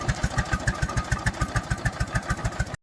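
An International Harvester Titan 1020 tractor engine chugs in a steady, evenly spaced low beat, running loud and close for a few seconds before cutting off abruptly.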